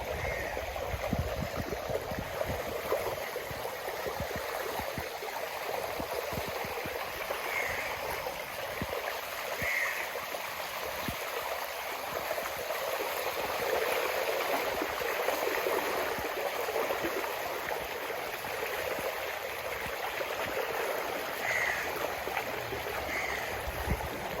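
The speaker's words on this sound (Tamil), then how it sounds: "இந்த பாருங்க தண்ணி வருது எல்லா இடத்துல இருந்தும் இந்த தண்ணியால் ஓடி வருது" Steady rushing of floodwater flowing continuously through a flooded village after a storm, a broad even wash of sound with no voices, lasting throughout.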